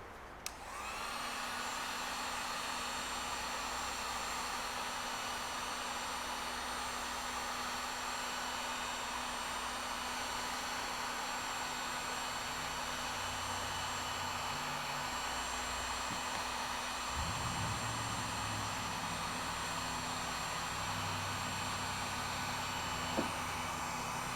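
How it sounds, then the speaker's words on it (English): A heat gun blowing hot air to loosen badge glue on a car, a steady loud whooshing hum with a whining tone, continuous throughout with a slight shift in pitch near the end and no talking. "You're just using the heat gun to heat up the glue"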